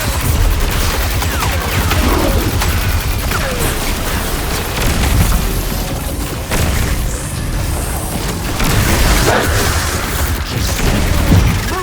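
Loud, sustained video-game gunfire and booming impacts in Destiny 2 while fighting the Taken, dense volleys and explosions running continuously through the whole stretch with no clear pauses.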